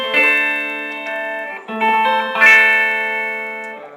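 A Fender electric guitar with a lipstick pickup, played clean straight into an amp with no distortion, rings out in bright sustained chords that swell and fade, with a new strum about every second.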